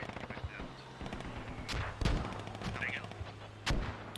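An artillery barrage in a war video game, heard as a run of gunfire and fairly faint booming impacts, with several heavy blasts standing out from a continuous background of distant fire and a voice speaking over it.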